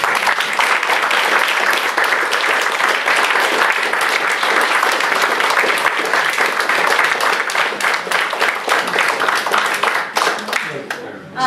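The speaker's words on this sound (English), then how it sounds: "just a wonderful round of applause just to show our commitment." A church audience applauds loudly and continuously for about ten seconds as a dense mass of clapping hands, then the clapping tapers off at the end.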